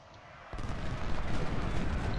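Cannon artillery fire from the Civil War strategy game Ultimate General: Civil War erupts suddenly and turns into a sustained, rumbling barrage of booms that stays loud to the end, with no talking over it.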